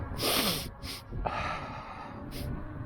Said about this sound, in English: Clear my sniffles once.